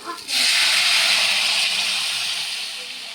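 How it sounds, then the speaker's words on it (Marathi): Moong dal poured into hot tempering, a sudden loud sizzle bursting up after a brief clink and hissing strongly, then slowly easing off over a few seconds. "यामध्ये आपण आता मुगाचं वरण ओतूया म्हणजे मस्त असा तडका बसेल"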